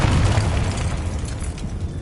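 A Confringo spell explosion from the Hogwarts Legacy video game gives a short, heavy, low boom with a dense rumbling roar that holds steady for about two seconds, with no talking.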